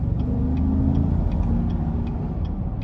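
Inside a 2020 GMC Yukon XL SLE 4WD, its 5.3L engine holds a low, steady rumble after a downshift, with faint ticking sounds above it.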